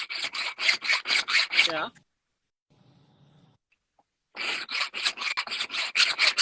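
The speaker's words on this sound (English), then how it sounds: "I have a really coarse file, so I'm getting some coarse lines" A coarse checkering file strokes rapidly over metal in two bursts of rhythmic rasping, close and loud, separated by a short quiet pause with a brief spoken word.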